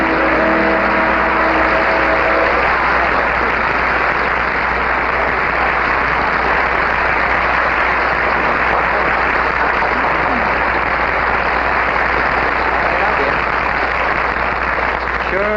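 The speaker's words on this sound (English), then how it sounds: "Nice to hear that applause, isn't it, Lucy?" Dense, loud studio audience applause for Lucille Ball on a television house-party show, sustained and even throughout, with a brief voice at the start.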